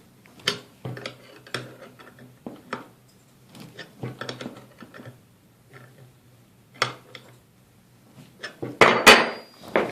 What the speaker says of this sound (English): Once tight, you just want to spin your crank arm puller.